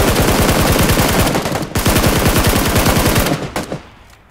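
Rapid automatic gunfire from the video game PUBG, played on Xbox One X, comes in long, loud, close bursts with a brief gap midway before trailing off at the end.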